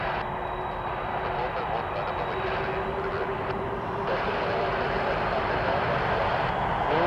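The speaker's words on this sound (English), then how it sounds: "Lufthansa 471, 747-400" A Lufthansa Boeing 747-400 jumbo jet takes off from Toronto Pearson Airport, a broad, loud roar of its engines that swells steadily over several seconds at moderate distance.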